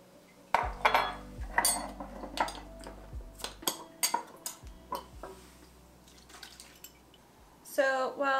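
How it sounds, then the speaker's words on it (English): Chopped onions and pineapple tumbling into a pan of tomatoes and green peppers, several clattering knocks and scrapes against metal, with a deep resonant ring lingering under them and a voice speaking briefly at the end. "I am just going to throw them all into this pan along with the tomatoes and the green peppers"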